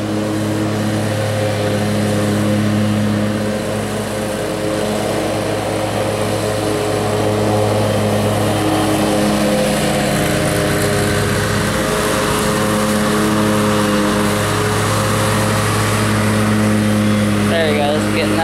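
A small Kohler engine drones steadily throughout with a constant hum and slight changes in pitch, nearby and continuous.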